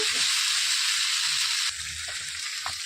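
Ridge gourd pieces sizzle steadily in a hot pan while being stirred, with a constant bright frying hiss and a few soft scraping clinks from the stirring, close up and with no talking.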